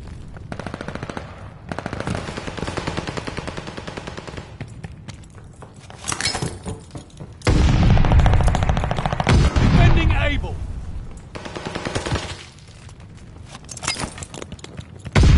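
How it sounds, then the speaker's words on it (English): Video game combat with hostile aircraft strafing: dense, sustained automatic gunfire rattles throughout, surging into a heavy, loud burst of fire and impacts in the middle before easing back. "Hostiles are strafing us!"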